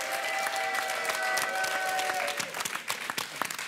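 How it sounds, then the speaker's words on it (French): A French TV studio audience claps warmly for a few seconds, dense applause close and even that thins toward the end, with a musical tone ringing underneath. "Et applaudissements pour Cindy et Raphaël."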